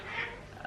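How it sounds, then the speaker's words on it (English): Cats snarling and yowling at each other, a brief harsh, growly tangle of noise in the background. "the cats are fighting."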